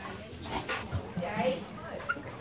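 A small female dog gives soft yips and whimpering barks in short bursts at moderate distance, mixed in under people talking nearby in a quiet outdoor setting.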